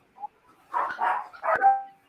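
Small dogs barking indoors during a casual chat at home; a short yip followed by three close, loud barks in quick succession, no talk over them.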